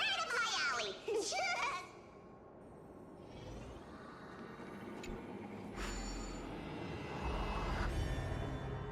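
Sheep bleats from the Amphoreus storyline of Honkai Star Rail sound in quick, wavering calls at the start, followed by a lower rumbling game ambience, with a voice speaking over it.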